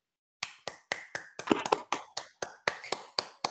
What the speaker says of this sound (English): maybe we could come on our mic so Harry can hear the well-deserved round of applause that